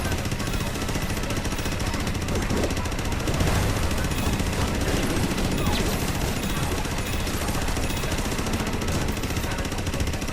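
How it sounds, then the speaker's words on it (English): Continuous rapid gunfire from the Astro Bot video game blasts without pause, a dense, loud barrage of shots filling the whole stretch while a voice occasionally speaks underneath. "Stop shooting stuff in my face."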